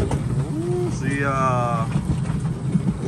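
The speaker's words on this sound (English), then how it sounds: "Oh, this is a bird." A pigeon coos at a family park in Stavern, Norway, giving a couple of short rising and falling calls over steady background hum and outdoor noise.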